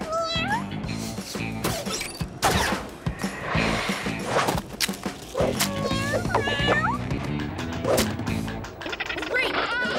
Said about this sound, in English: fish-loving kitties